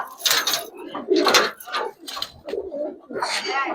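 Giribaz silver Pakistani high-flyer pigeons coo close by in a loft, giving a series of soft, throaty coos with small rustles between them.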